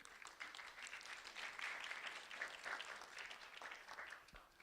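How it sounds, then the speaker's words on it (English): An audience at an honors ceremony applauding, a dense, steady wash of many hands clapping that holds for several seconds at a fairly distant, soft level. "A round of applause for Jasmine."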